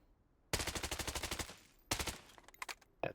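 BloodStrike video game assault rifle with a rapid-fire magazine, loud close bursts of rapid automatic fire: a long rattling burst, a short second burst, then scattered quicker shots, no talk over it.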